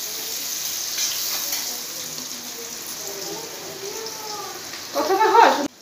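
Sliced onions frying with bay leaves in a pan give a steady, soft sizzle throughout, swelling into a louder hiss near the end, likely as the pan is stirred or more is added.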